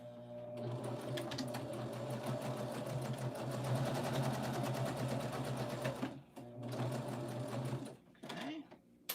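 A sewing machine stitches at a rapid, steady whir for about six seconds, pauses, then runs in shorter bursts, close and loud while people talk over it.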